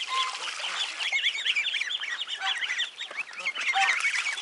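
A flock of young, half-grown ducklings keeps up a busy chorus of high, reedy peeping quacks, many birds calling over each other at close range with no pause.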